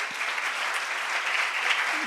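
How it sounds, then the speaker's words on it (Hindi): A church congregation at a Christmas meeting claps together in a dense, even wash of applause that holds steady throughout. "आइए हम आपकी तालियों में, गूंजती तालियों में खुदावंद के सूरमा को"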